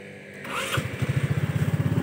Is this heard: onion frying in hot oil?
no